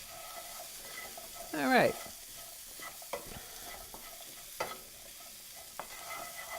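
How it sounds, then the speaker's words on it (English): Spices and onions frying in a pot for curried chicken and vegetable stew, a steady sizzle broken by a loud stirring scrape early on and a few later clunks of the spoon, close by, with a brief spoken word. "You want to heat up the spices a bit because it kind of helps to release the flavor."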